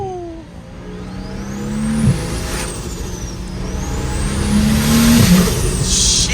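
BMW 335i engine under load on a drive, its pitch climbing steadily, then blipping and dropping sharply twice as it downshifts through the gears. The engine is loud and close, with a continuous exhaust drone.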